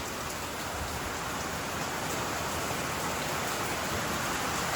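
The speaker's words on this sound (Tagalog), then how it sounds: "umuulan, nakakatamad" Heavy rain falls steadily outdoors on the way to a gold mine, a dense, even wash of drops that continues without a break and with no voices.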